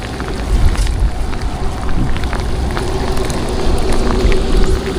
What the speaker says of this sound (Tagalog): Ayan, lumakas na yung ulan.